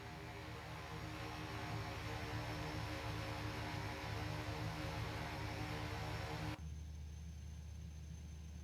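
Steady propeller aircraft engine hum with low rumble while taxiing in the X-Plane 11 flight simulator at Salt Lake, continuous and fairly loud, dropping abruptly to a quieter drone near the end.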